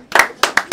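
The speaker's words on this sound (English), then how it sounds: "Clap it up for him." A small group at a rap battle claps in about four short, uneven bursts, close and fairly loud, with no voice on top.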